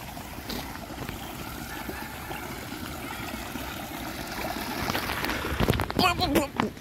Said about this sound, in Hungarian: Imádom a patakot.